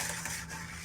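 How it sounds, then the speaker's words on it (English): Whisk scraping briskly against a pan while beating egg yolks for a lemon tart over low heat, a steady close swishing with no pauses. "I'm gonna break up those egg yolks, start whisking this all together."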